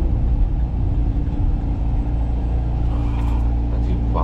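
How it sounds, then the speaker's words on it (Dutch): A car goes by on a road with a heavy low rumble that swells and fades over a few seconds, close by, with some faint background sounds. "Of pas op, dat is een auto."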